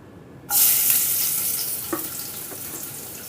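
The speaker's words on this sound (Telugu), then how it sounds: "ఆయిల్ వేడైందండి మనం సన్నగా తరిగిన అల్లం వెల్లుల్లి ముక్కల్ని వేసేసుకుందాం" Finely chopped ginger and garlic hit hot oil with a sudden loud sizzle that settles into steady close frying crackle, with a couple of faint stirring clicks.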